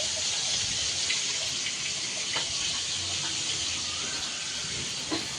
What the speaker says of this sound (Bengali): আর এই তো প্লেট বাটি খাওয়ার পর যেগুলো হয়েছিল ওগুলো ধুয়ে নিচ্ছে।